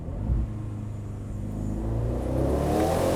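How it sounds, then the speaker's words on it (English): A 2026 Aston Martin Vantage Roadster exhaust revving, a close deep engine rumble climbing steadily in pitch and loudness, alone without voices. "Much louder, and those crackles at the end."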